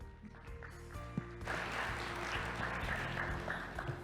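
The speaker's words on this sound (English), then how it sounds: "Let's give him a round of applause" A conference audience applauds a presenter stepping on stage at a plenary session, faint room tones giving way to soft, distant steady clapping halfway through.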